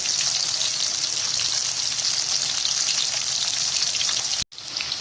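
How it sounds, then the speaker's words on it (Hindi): Food frying hard over high heat in a pan after a sprinkle of salt, a loud, steady close-up sizzle that cuts out briefly near the end and then resumes. "देखिए ये फ्राई हो रहे हैं माशाल्लाह से।"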